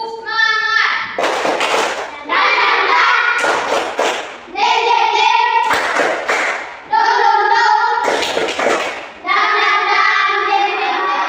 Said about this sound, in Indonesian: Ketua kelas silakan kita tepuk semangat